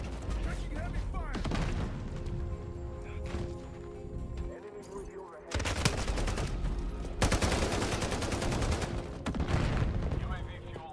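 Heavy gunfire rattles through a Call of Duty Modern Warfare match in the closed beta: dense, loud, sustained volleys of rapid shots with only a brief lull before the firing surges back in.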